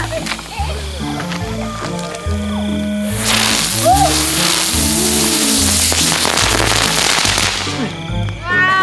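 A cheap spinning-top firecracker goes off near the floor, giving a loud, continuous hissing fizz that lasts about five seconds, while people talk and react throughout.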